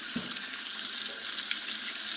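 Pieces of masala-coated fish shallow-fry in oil, a close, even hiss of sizzling with faint crackles, left undisturbed and heard alone without speech.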